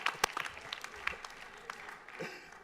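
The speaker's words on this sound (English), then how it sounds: "Clap, everybody clap for the Tupac burger." An audience at a health, wellness and hip hop talk gives scattered, sparse claps, a few sharp hand claps near the start and then thinner, quieter clapping that fades out.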